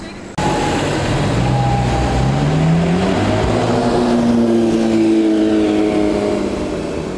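A Ferrari 328 GTS reversing slowly, its engine holding a steady close idle with a rising and falling tone as it creeps back, loud and continuous after a brief quiet start.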